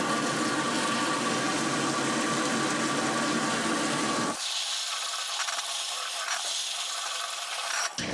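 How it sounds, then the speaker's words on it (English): Wild rice rinsing in water gives a continuous broadband rushing, swishing sound that shifts abruptly to a lighter, thinner wash partway through. "first we need to rinse the rice"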